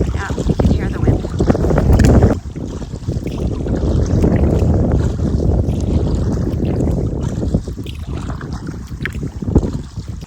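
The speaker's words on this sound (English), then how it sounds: "Yeah, you can hear the wind." Strong wind gusts roar across a river during a solo backcountry canoe trip in Temagami in May, with heavy buffeting on the microphone that drops briefly then continues steadily.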